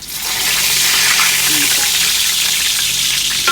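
Fish fries in hot oil with a loud, steady broadband sizzle that rises quickly and holds evenly throughout, close up and with no talk over it.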